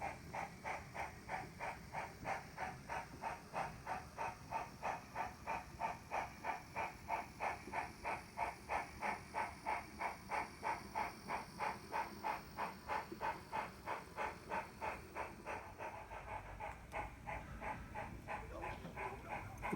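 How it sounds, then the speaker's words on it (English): A model train heading toward a tunnel chuffs in a fast, regular rhythm of steam-like hissing beats, steady and fairly faint, easing slightly near the end with no voices. "the train gets ready to enter tunnel number 1"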